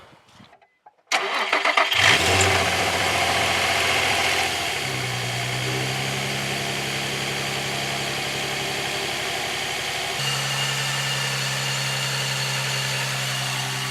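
A Nissan 350Z engine fitted with a Kinetix Racing manifold cranks briefly and catches, revving up before settling into a steady, rumbling idle that shifts pitch slightly partway through.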